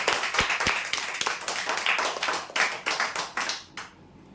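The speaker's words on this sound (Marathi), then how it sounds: "जोरदार टाळ्या यासाठी" Audience applause at a weekly prize draw event, a few seconds of scattered hand clapping, fairly close and moderately loud, fading out at the end.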